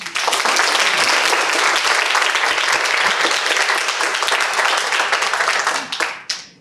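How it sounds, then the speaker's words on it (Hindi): Children clap together in loud, sustained applause, a dense crowd-like patter that fills the space evenly before tapering off near the end. "ताली नहीं बजाते हो क्या तुम लोग?"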